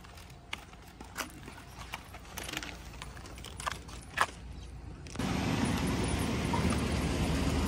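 House keys jangle close by in short metallic rattles at a train station, followed by a sudden loud roar of an arriving train.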